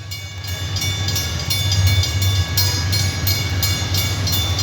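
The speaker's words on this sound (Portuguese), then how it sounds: "Gente, trem de minério vazio vindo aí." An empty MRS ore train hauled by twin AC44i locomotives passes close by with a loud, steady rumble and a rhythmic clatter of wheels over rail joints.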